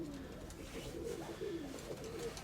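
Pigeon cooing from a breeding pair, a soft repeated rolling coo that sounds close and steady against a low background hum, with no voices.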